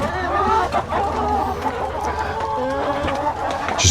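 Farm chickens cluck and murmur close by in a continuous jumble of short calls, with faint background noise throughout and no talking.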